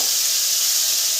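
Finely cut potatoes frying in a pan give off a steady, close hiss of sizzling oil, continuous and even throughout without any pauses.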